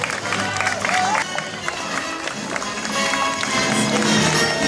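A crowd applauds at a knight tournament in Golub-Dobrzyń as each participant is introduced, giving steady dense clapping with scattered taps and murmuring that stays loud and continuous throughout.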